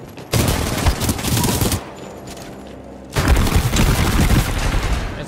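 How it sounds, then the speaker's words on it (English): Shotgun and other gunfire in the Titanfall 2 video game, two dense bursts of loud rapid shots separated by a quieter lull, close and dominant with no talking. "It's the shotgun, dude. It's always the shotgun."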